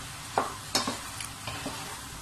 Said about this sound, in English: So now I'm going to mix everything together.